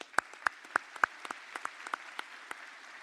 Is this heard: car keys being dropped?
no